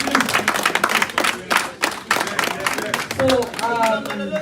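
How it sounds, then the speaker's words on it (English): At an APC Canada congress, a crowd honours the newly elected executives with a burst of distinct, uneven hand claps, the individual slaps clearly separated, while voices talk over them and grow more prominent toward the end. "So give them a round of applause"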